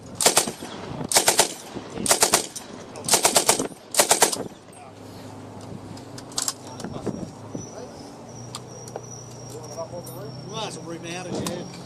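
An M60 machine gun is test fired outdoors at a military show, five loud rapid bursts in a steady rhythm, followed by lower crowd murmur and talking.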